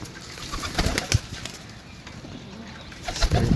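Pigeons for sale coo in soft bursts close by, with a couple of wing flaps and faint background noise between calls.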